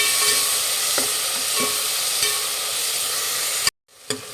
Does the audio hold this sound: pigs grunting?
no